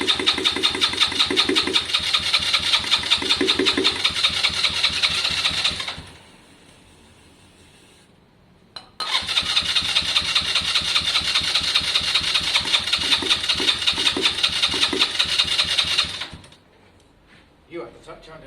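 Lexmoto Valiant motorcycle engine cranking and catching in two loud bursts of rapid, rattling mid-pitched firing, each lasting several seconds and cut off abruptly, with a quiet gap between and brief voices near the end.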